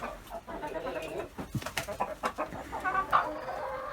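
Several chickens sitting on eggs cluck softly and irregularly nearby, with short bursty calls over a quiet background.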